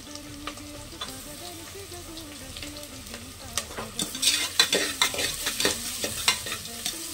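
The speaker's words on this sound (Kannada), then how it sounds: "ಚೆನ್ನಾಗಿ ಫ್ರೈ ಮಾಡ್ಕೋಬೇಕು, ಈರುಳ್ಳಿ, ಶುಂಠಿ ಬೆಳ್ಳುಳ್ಳಿ ಎಲ್ಲ." Onion with ginger-garlic paste frying in a pan for mint rice, a close crackling sizzle that grows busier as a spoon scrapes and stirs in quick strokes, with a faint tonal hum early on.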